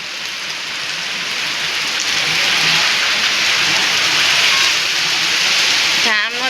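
Heavy rain pours down steadily in a loud, continuous wash of hiss that barely changes, with a brief different sound breaking in near the end.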